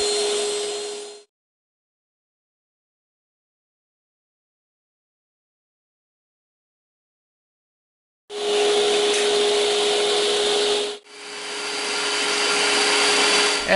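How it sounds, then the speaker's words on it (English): A power saw rips a wooden board lengthwise up the middle, loud and steady: a short burst at the start, then a long run broken by a brief dip near the end, with silence in between. "Now the rest of the board, I'm just going to rip it up the middle"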